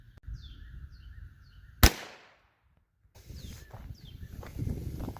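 A single sharp, loud report from a .22LR pistol firing a hollow point round into ballistic gel, alone against quiet outdoor background with faint birdsong.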